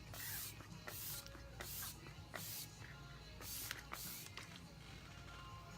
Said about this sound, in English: you're going to push the pump down all the way, because that's going to give you like an aerosol effect versus pumping small pumps